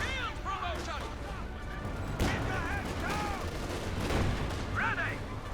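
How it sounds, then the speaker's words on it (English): Rapid bursts of gunfire from a half-track in the World War II strategy game Company of Heroes 2, mixed with chirping unit voices and battle noise in a dense, continuous din. "We got the half-track there firing away."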